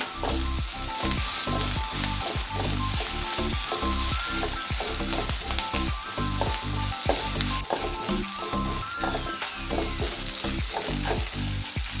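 Green chilies sizzle and fry in a pan with curry leaves for mango rice, a steady crackle broken by rhythmic scraping stirs, close and moderately loud, with no voices.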